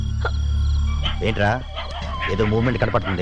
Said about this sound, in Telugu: కుక్కలు అరుస్తున్నాయి అంతే.